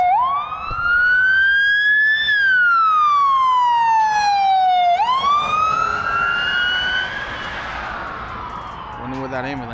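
An ambulance siren passes nearby on a road, its wailing tone sweeping up and down in long, loud cycles that fade slightly at the end.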